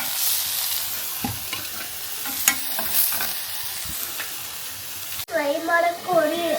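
Rice is stirred in a hot pan at home, a soft scraping sizzle with occasional spoon knocks, then a voice speaks near the end.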